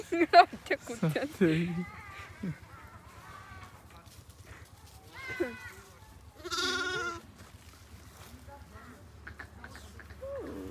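Several goats and kids bleat in short, wavering calls spread across the clip, fairly close, with a low steady hum underneath and little talk.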